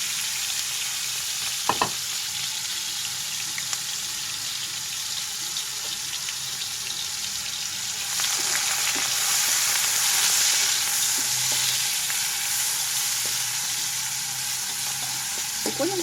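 Chicken curry fries in a pan with a continuous hiss and sizzle that swells louder partway through as more ingredients go in, with occasional stirring clatter and no talk.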